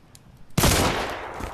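Gunfire from modded guns in the Blade and Sorcery video game, a sudden loud burst after a quiet moment that holds as a dense rattling volley to the end.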